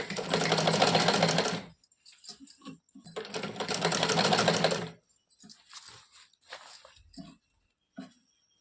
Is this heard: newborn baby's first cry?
no